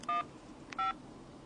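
Two short, bright phone keypad beeps sound as a number is typed in, evenly spaced and close, over a faint background hum.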